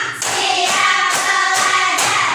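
A class claps out a counting pattern with the teacher. The clap bursts land roughly every half second in a regular rhythm, close and fairly loud.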